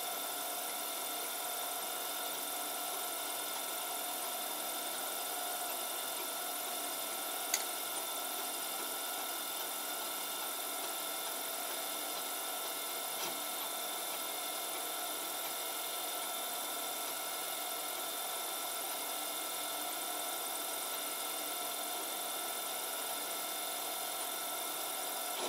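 A 3D printer's troublesome filament feeder runs while printing PLA, giving a constant whirring drone with steady tonal bands and a couple of faint ticks.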